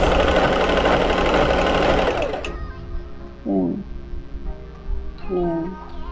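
Portable sewing machine fitted with a ruffle presser foot, stitching in a fast, loud continuous whir for about two seconds and then stopping, followed by quieter room sound with someone talking briefly.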